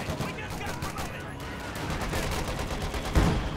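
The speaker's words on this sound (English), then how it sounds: "I have a lot of men shooting at these guys" Troops firing in the Company of Heroes 2 video game: dense, overlapping bursts of rifle and machine-gun fire roll on continuously, capped by a heavier thump near the end.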